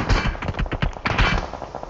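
Rapid bursts of gunfire crackle in a battle royale video game, several sharp, close shots and short automatic volleys packed into under two seconds with no talk.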